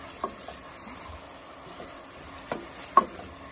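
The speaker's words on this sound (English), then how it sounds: "we're just gonna stir them once in a while to not make sure any of them burn" Onions fry quietly in a pot for a Moroccan lentil soup, a faint low sizzle with a few scattered utensil clinks and scrapes.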